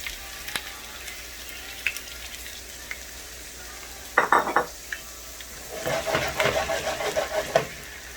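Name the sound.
potatoes sizzling in hot pot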